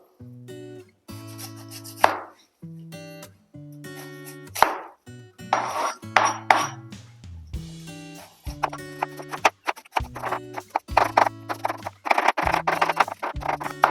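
A knife chops pineapple on a kitchen board with sharp, irregular cuts. It is close and clear and speeds into denser strokes toward the end, with no talking.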